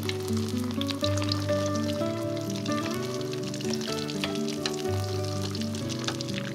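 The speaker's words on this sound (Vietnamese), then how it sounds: "Khi dầu vừa nóng già thì mình cho cá vào chiên." Fish sizzles and crackles steadily in hot oil over medium heat in a pan, a constant frying hiss with small pops, while soft background music plays.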